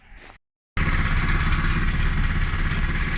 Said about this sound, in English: I think this engine needs an overhauling.